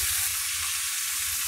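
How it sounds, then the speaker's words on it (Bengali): Shrimp frying in a pan with salt and turmeric, stirred as it cooks: a loud, continuous bright hiss of sizzling oil with faint low stirring bumps beneath and no talking. "নাড়াচাড়া করে ভেজে দেবো।"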